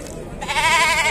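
Goats and sheep bleat at an open-air livestock fair in Tabira, a loud, wavering bleat rising over a busy, noisy crowd background.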